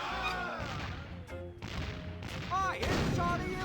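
Cannon fire in The Curse of Monkey Island: a few heavy booming blasts and crashes with game music and effects layered over them, and a voice speaking among the shots.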